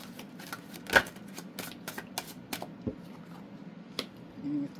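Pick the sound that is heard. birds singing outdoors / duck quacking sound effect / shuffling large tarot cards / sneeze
shuffling large tarot cards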